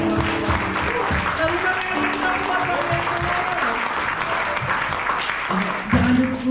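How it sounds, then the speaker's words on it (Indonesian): Church congregation applauding during a Sunday service, with steady clapping that continues for several seconds while a voice speaks over it. "Tepuk tangan dulu."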